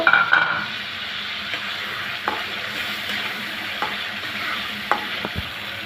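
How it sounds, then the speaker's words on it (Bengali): Fried prawns being stirred and sautéed in spice paste in a pan for a prawn, potato and drumstick curry, a soft continuous sizzle with occasional scraping clicks of the spoon against the pan. "ভেজে রাখা চিংড়িগুলো মশলার সাথে ভালো করে কষিয়ে নেব"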